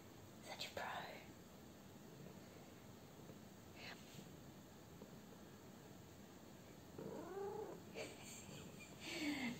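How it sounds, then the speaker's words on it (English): A cat purrs softly in a faint, steady rumble, with hushed whispering voices now and then close by. "She's purring again."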